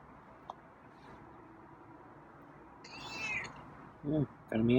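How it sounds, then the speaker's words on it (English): A feral cat gives a soft, high meow in a quiet room. A person speaks briefly near the end. "Yeah, got a meow."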